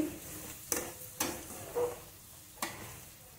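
A spoon scrapes and taps against a pan in a few separate strokes over a soft sizzle of spices and tomatoes, with quiet pauses between.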